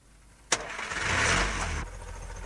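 A car engine, apparently an old Soviet-era motor, cranks with a sharp click and catches, then runs with a rising roar before dropping back to a quieter idle; close and alone with no talk.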